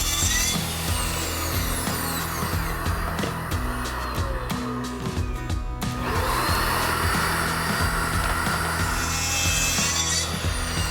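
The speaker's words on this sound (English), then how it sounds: "Let's cut this out and see if we can turn this bit of old plywood into something" A power saw cuts through a sheet of old plywood for a camper van build, with a loud, steady, close-up grinding rasp. The cutting pauses briefly midway, then resumes.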